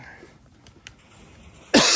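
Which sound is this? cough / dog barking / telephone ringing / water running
cough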